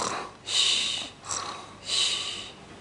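A voice imitates snoring: three breathy, rasping snorts in a slow, steady rhythm, close and fairly loud, with short pauses between them.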